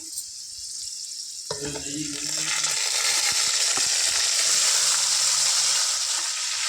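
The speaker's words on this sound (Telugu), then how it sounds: "మ్యారినేట్ చేసుకున్న చికెన్ ఫ్రెండ్స్ ఇది ఇందులో వేసుకుందాం" Marinated chicken tipped into a hot biryani pot: after a few quiet clinks, a loud, broad sizzle surges up and holds steadily, close and continuous, with light scraping beneath.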